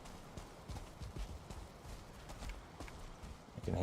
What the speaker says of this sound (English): I can hear him stomping around